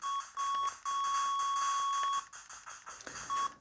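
Retro arcade shooter 1942 plays on an RG350 handheld: steady engine drone with repeated high, thin electronic beeps, one long held tone among shorter bursts, tinny and moderately loud.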